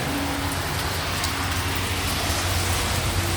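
Steady rain falling outdoors in Si Wilai, Bueng Kan, near a parked car, a dense continuous hiss with no pauses and no voices.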